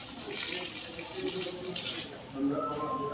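Water pours steadily from an opened tap at an office compound so animals can drink, a close, continuous splashing rush that eases slightly near the end.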